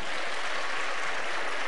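Applause from a studio audience at a televised Spanish political debate between two candidates, a steady dense patter of many hands clapping with no pauses or voices.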